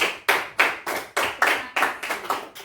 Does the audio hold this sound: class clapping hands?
yes